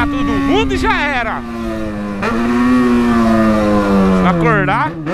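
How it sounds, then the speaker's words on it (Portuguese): A loud motorcycle with a bent exhaust revs repeatedly, its engine note rising and falling in sharp bursts while a voice talks over it. "moto barulhenta"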